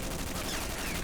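Sustained, dense machine-gun fire from two gunners trading rounds in the war strategy game World in Conflict, a continuous loud rattle filling the whole stretch with no pauses.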